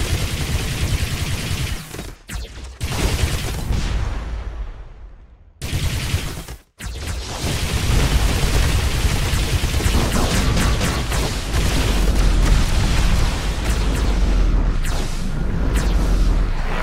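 Laser cannon fire in the space shooter Descent Underground, a dense, continuous barrage of loud blasts and booming impacts, broken by two brief gaps of near silence, then resuming at full intensity.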